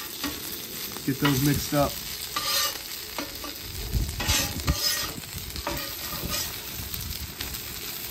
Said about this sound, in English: Just add a little bit more oil down. That's kind of like your shallow fry.